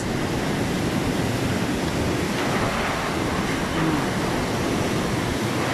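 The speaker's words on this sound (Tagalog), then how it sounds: "Biglang umikot yung pag-ikot ng hangin, lalong lumakas." Strong typhoon wind in Bicol, Philippines, roars steadily and loudly throughout, a dense rushing noise with no pauses.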